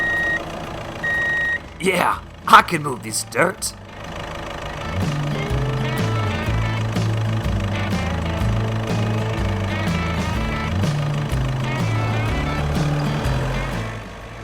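A toy dump truck moves dirt, its reversing beeps and engine whir running steadily after a brief spoken line near the start.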